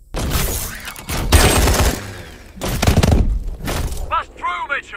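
Swarm missiles fire in bursts of heavy whooshing blasts in Call of Duty Advanced Warfare, loud and close, with brief gaps between volleys and voices calling out near the end.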